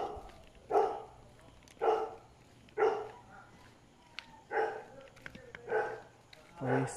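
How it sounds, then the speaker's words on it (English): A dog barking outside at night, six or seven single woofs spaced about a second apart, moderately close over a low, steady background hum. "Please don't bark at me."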